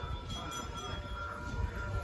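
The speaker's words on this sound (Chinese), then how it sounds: "小火车。" A small train rolls past nearby on a cold evening in China, a steady low rumble of wheels and cars holding even throughout with no break or horn.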